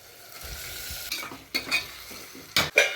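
Chicken fries in a pan with onion, tomato and ginger-garlic paste, giving a low, quiet sizzle broken by several sharp metallic clanks and scrapes of a stirring utensil near the end.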